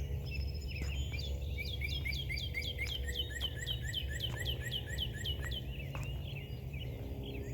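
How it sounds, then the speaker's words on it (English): Birds chirp in a quick, repeated series of bright tweets on a morning walk, fairly close, over a low background hum; no talking. "Birds are happy this morning, at least."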